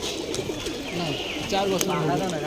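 Low, rolling coos from a gathering of pigeons carry on beneath continuous close male speech, with faint chirps and general market chatter around them.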